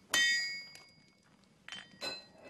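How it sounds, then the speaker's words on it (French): Hammer blows striking a metal piece on an anvil to straighten it in a workshop, three ringing metallic clangs spaced out over a quiet background, close and fairly soft overall. "quelques bons coups de marteau pour rectifier la pièce"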